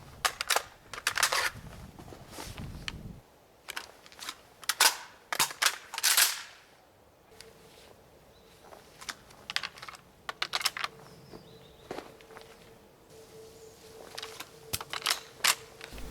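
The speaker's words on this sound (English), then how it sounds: "right now I'm gonna show you the typical reloads in Call of Duty Modern Warfare and Call of Duty Cold War." Weapon reloads from Call of Duty Modern Warfare and Cold War play as a series of sharp, close mechanical clicks, clacks and magazine snaps, arriving in irregular bursts separated by short pauses.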